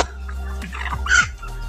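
Poultry cluck and squawk nearby in short, scattered calls over a steady low background hum.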